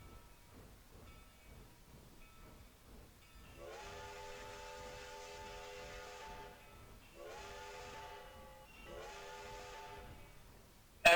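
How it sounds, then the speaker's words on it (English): Steam locomotive whistle in a Garry's Mod western railway game, sounding in three separate blasts: one long, then two shorter, each a bright chord-like tone over a faint hiss and low background rumble. "you hear one short whistle from the engineer up ahead."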